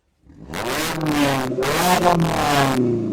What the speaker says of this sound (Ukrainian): ти погазуй і кайфани, класна машина